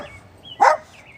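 A single dog's bark, short and moderately loud, rising once out of a quiet room tone with faint high whistling tones around it.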